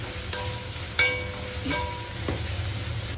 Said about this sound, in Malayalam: ഈ ഒരു സവാള നന്നായിട്ടൊന്ന് വഴറ്റിയെടുക്കാം